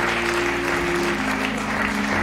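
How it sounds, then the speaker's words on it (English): A church congregation claps at a bishop's consecration ceremony, a dense, loud, continuous wash of hands over a sustained, steady musical drone. "Why you're not clapping now?"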